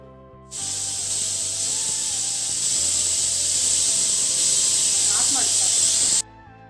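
A pressure cooker locked shut over plain biryani vents a loud, steady broadband hiss of steam that starts abruptly, holds for several seconds, then cuts off sharply, with faint kitchen clatter underneath.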